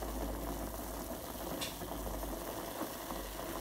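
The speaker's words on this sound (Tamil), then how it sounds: "இப்போ கொள்ளும் தண்ணியும் சேர்த்து அடுப்பில் கொதிக்க வைக்கிறேன்." Horse gram and water boiling in a pot on a stove, giving a steady, close bubbling hiss that continues evenly throughout with no talk.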